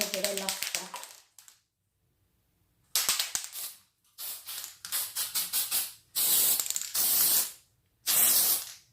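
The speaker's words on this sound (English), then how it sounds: "I have got a gold spray that I think I'm just going to do a little bit of luster." Gold luster spray from an aerosol can is applied to a chocolate drip birthday cake in a series of sharp hissing bursts, short puffs first and then a few longer sprays, close and clear with pauses between.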